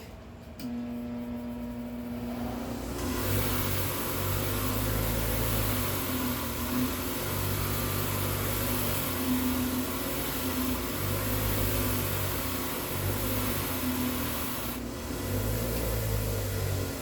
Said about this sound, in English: just hit it on the buffing wheel, and there you have a beautiful finish on the outside of that.